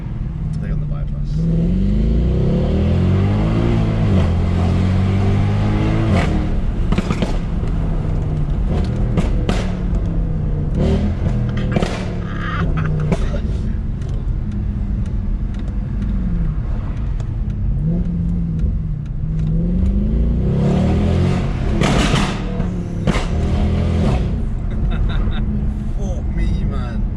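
A Mercedes C63 engine revs and pulls hard while driving, its low droning note rising and falling through gear changes, with people talking over it inside the car throughout.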